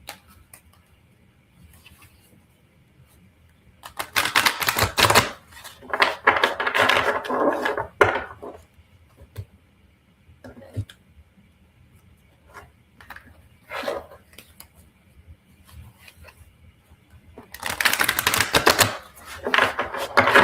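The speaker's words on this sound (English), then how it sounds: "give it some more shuffles here" Playing cards riffled and shuffled in several separate bursts of crisp, rapid flutter, close and fairly loud, with quiet pauses and small taps between them.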